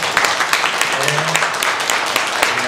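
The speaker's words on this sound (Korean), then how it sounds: "우리 한영의 박수로" A church congregation applauds during a Sunday service in a short burst of steady, close clapping, with no voices over it.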